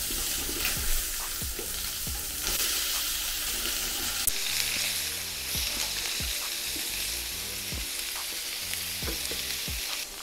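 Teriyaki burger patties with sesame oil mixed in sizzle in a pan with no added oil, a loud, steady frying hiss with occasional scrapes and taps of a spatula as they are turned.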